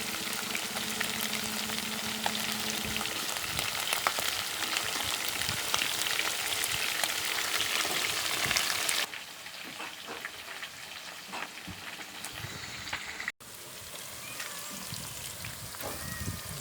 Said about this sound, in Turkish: Bahçeden kabak kızartması.